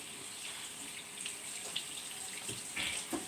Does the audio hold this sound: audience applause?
no